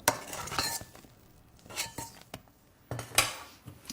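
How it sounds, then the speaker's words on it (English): A spoon folds cocoa, vinegar and chocolate into meringue in a mixing bowl, giving soft scraping and occasional light clinks against the bowl in a few separated bursts, close and fairly quiet. "Just keep turning the spoon round and down until everything is gently combined."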